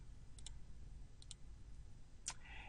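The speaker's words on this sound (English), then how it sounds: "So we click OK." Quiet computer mouse clicks: three short, faint clicks spaced about a second apart over a low steady room hum.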